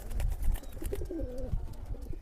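Pakistani pigeons kept for sale cooing close by, with soft repeated throaty coos over a low rumbling background.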